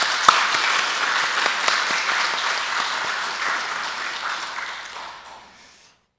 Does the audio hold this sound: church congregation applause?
yes